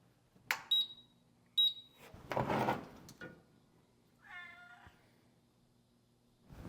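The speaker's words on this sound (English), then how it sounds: "It beeps." Two short, bright electronic beeps in quick succession from a used tire balancer machine being switched on, followed by a rustle, a thump, and a brief warbling electronic tone.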